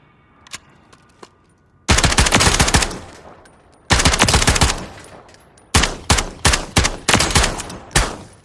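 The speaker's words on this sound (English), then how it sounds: "AK-458. Firing that 458 SOCOM." AK-458 rifle firing .458 SOCOM rounds in Call of Duty Modern Warfare III: a few faint clicks, then loud rapid automatic bursts, followed by a string of evenly spaced single shots, close and punchy with no voices.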